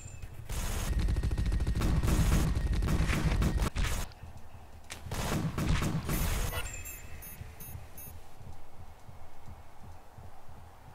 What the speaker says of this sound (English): The other gun fires too fast with the carriage.